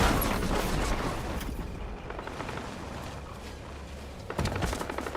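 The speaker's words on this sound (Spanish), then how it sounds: "Aquí he escuchado disparos." Dense bursts of gunfire crackle and rattle continuously in a game soundscape, with a louder burst of shots near the end.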